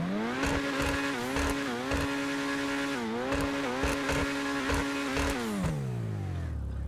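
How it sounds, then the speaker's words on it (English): Engine of the Dewbauchee Champion sports car in GTA Online, a loud, steady engine drone with repeated upshifts and rev dips, then winding down to a fading low hum at the end. "the Champion, you know, it's a pretty good sounding car"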